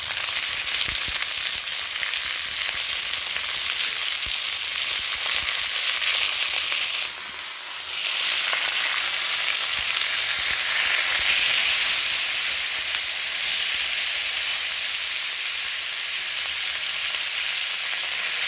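Onions and green chillies fry loudly in hot oil with mustard seeds and curry leaves, a dense continuous close sizzle with a brief dip partway through.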